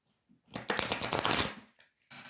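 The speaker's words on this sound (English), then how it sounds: "I hope you can hear me shuffling" A deck of tarot cards being shuffled close up, a dense riffling flutter of rapid papery slaps lasting about a second, followed by softer card taps.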